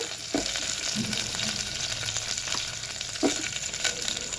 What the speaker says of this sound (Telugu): పెద్దలపాయ ముక్కలను వేగనివ్వాలి